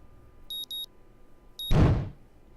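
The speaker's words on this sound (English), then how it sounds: "My alarm blares in my ears," An alarm clock in the visual novel game Katawa Shoujo gives two quick electronic beeps, then a third starts and is cut short by a soft, muffled thump that fades away.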